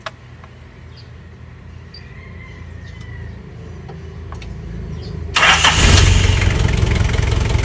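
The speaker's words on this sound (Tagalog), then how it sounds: "Itatatlong susi muna natin dahil malamig pa ang makina." A cold car engine, started with the key, cranks and catches at about five seconds, roaring into a loud, steady idle after a stretch of quiet ticking and faint background noise.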